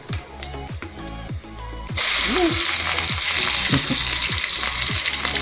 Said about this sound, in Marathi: यानंतर आपण मिरची टाकत आहोत.